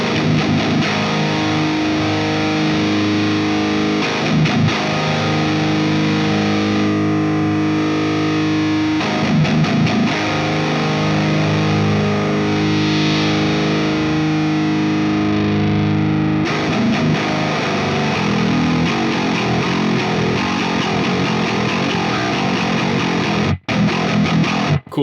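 A heavily distorted 8-string guitar with EQ cuts around 4 kHz and 65 Hz chugs dense, low riffs with sustained palm-muted chords and a few brief breaks, loud and continuous throughout with no talking.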